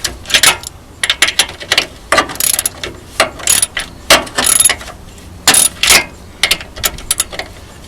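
A small hand ratchet tightening a steering or suspension component clicks in quick bursts of rapid pawl ticks, separated by short pauses as the handle swings back, close and fairly loud with no voices.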